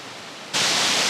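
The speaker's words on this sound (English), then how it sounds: "This is the first of the waterfalls." Waterfall on a Brecon Beacons walk, heard as a sudden loud, steady broadband rush of falling water that cuts in halfway and holds at full strength with no voices.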